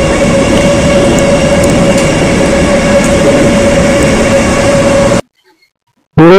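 A Singapore metro train passes close by with a loud, steady roar of wheels and motors for several seconds, then cuts abruptly to near silence before a short burst of sound.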